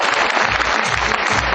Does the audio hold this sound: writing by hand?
no